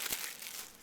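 Plastic wrapping on an anime DVD case crinkles and crackles close up in one short burst, with a sharper crunch near the start and no talking.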